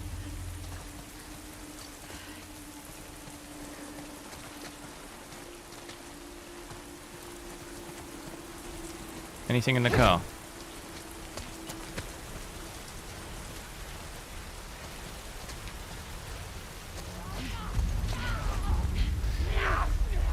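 Steady rain falls in The Last of Us Part 2, a continuous hiss of drops on surfaces with a low hum underneath, while a voice briefly speaks midway and heavier rumbling builds near the end.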